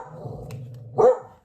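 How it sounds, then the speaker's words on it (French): A pet dog barks once, a short near burst at mid-level over a quiet room with a faint low hum. "il y a mon chien qui aboie"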